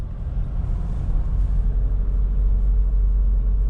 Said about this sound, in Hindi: ब्रेकर आया, क्लच दबाया, ब्रेकिंग करी, गाड़ी निकली, हाफ क्लच तक आए, फिर रेस देनी शुरू करी और फिर क्लच छोड़ दिया